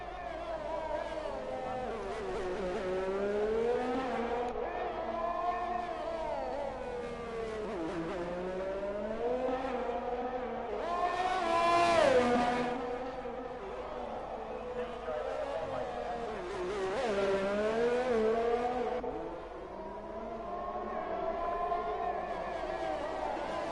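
A race car engine in a racing video game at Baku rises and falls in pitch as it revs and accelerates on medium tyres. The engine whines in sweeping, repeated surges, and a commentator talks faintly underneath.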